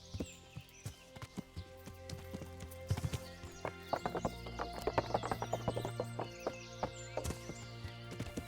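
Horse hooves clip-clop at a walking pace in the medieval game Kingdom Come: Deliverance, a regular series of sharp close taps with a horse neighing partway through, fairly quiet overall.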